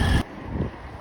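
Wind buffets the microphone at Brighouse railway station, a loud low rumble that cuts off abruptly, then softer gusty blustering continues for the rest of the moment.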